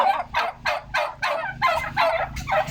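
Turkeys on a farm, raised organically and grown large for slaughter, gobble over and over in quick rippling bursts, roughly six calls in a row, loud and close with a few birds overlapping.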